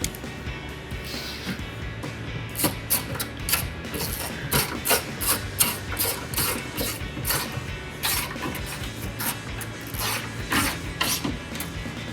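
A ratchet clicks rapidly in repeated bursts, tightening headlight mounting bolts on a 2007-2013 GMC Sierra 1500, loud and close with brief pauses between strokes.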